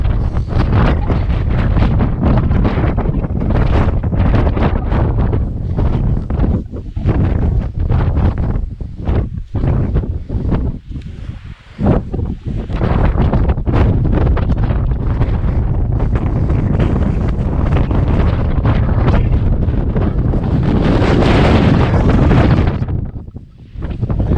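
Strong, gusty wind on a hilltop at Langlee Crags in the Cheviot Hills buffets the microphone almost nonstop, a loud roaring rush that briefly dips before surging again.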